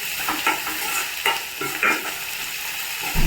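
Curry leaves sizzle with onions in a pan for a tomato curry, a steady crackling fry broken by occasional scraping stirs, close and moderately loud with no talking.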